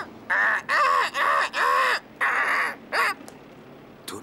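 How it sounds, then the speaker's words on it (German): A crow caws in a run of six loud, harsh calls close by, followed by a fainter call and a brief tail sound, with no talk over it. "Das ist eine besonders böse Krähe."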